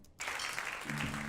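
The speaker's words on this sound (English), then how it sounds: "I might even bring that applause up" Crowd applause played back from a radio broadcast, a steady wash of clapping that starts abruptly after a brief silence and continues at moderate level, with a faint low hum joining partway through.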